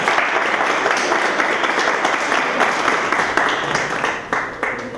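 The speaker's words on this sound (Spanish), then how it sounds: "Un aplauso, por favor." A crowd applauds steadily, dense clapping at a constant level that thins and tapers toward the end.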